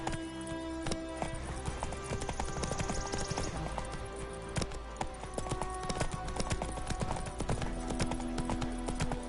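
Roach the horse galloping in The Witcher 3, rapid hoof clip-clops pounding in a steady driving rhythm over game music and ambience.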